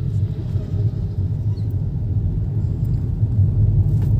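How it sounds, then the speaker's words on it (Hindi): Inside a Hyundai Nios on a narrow single road in traffic, the engine hums steadily in third gear, a continuous low rumble with no voices over it. "अभी क्लच दबा के थर्ड गियर लिया।"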